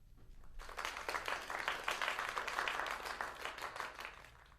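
A round of applause rings out in an online improv acting class. Dense, steady clapping starts abruptly and keeps an even level to the end, with no voices over it.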